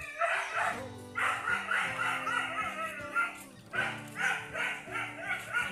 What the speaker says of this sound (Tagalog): ganyan sila kaingay mga aso.